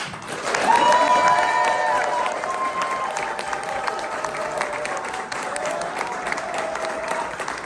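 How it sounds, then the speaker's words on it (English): An audience claps and cheers for standing staff and family at a camp opening speech, sustained applause with whoops and tonal shouting voices riding over it, loudest early then settling. "please stand up so everybody can give you a round of applause"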